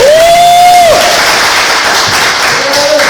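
Audience applause welcoming speaker Dr. Delfin Flores at a radiation hazard awareness training, a broad, loud, sustained wash of clapping from a crowd with a rising feedback-like whistle at the start.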